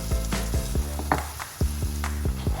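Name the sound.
egg chips batter poured into hot oil, frying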